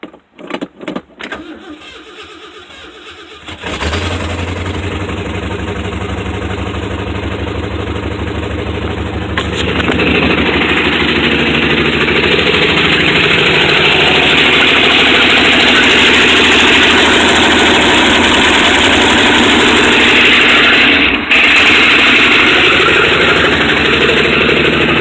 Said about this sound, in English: Usually once the engine warms up, it's quite a bit happier and it'll smoothen out, but it still misfires a little bit